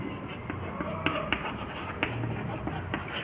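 Pen or marker writing during a Hindi maths lesson on fractions and linear equations: soft scratchy strokes with a few sharper taps, close and fairly quiet, with no talking over it.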